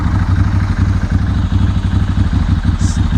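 A 1997 Ducati 916 motorcycle idles on its choke, with the throttle held slightly open. The engine gives a loud, steady, close-up throb with an even rapid clatter that continues for the whole stretch, and no one speaks.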